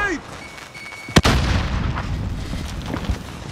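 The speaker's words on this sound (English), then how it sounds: "Throwing grenade!" A grenade detonates in Call of Duty: Modern Warfare with one sharp, loud blast and a rolling rumble afterward, amid battlefield noise and a few later thuds.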